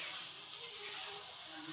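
Okra (bendakaya) frying on a pan, giving a steady, even sizzle with a soft hiss that holds at a constant level throughout, fairly quiet and with no voice over it.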